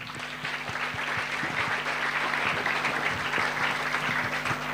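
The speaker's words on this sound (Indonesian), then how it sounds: "Tepuk tangan." An audience breaks into sustained applause, a dense, even clapping from a sizeable crowd that holds steady for several seconds with no talking over it.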